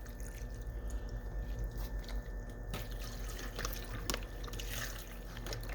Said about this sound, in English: And I'm also gonna add in the beef broth.